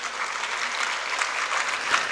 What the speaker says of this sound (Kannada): ದಯವಿಟ್ಟು ಎಲ್ಲರೂ ಚಪ್ಪಾಳೆ ತಟ್ಟಿ.